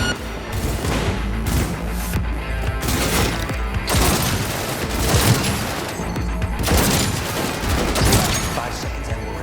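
Cyberpunk 2077 combat with dense, continuous gunfire and booming impacts throughout, loud and busy, with bursts swelling around the middle and end and voices shouting underneath.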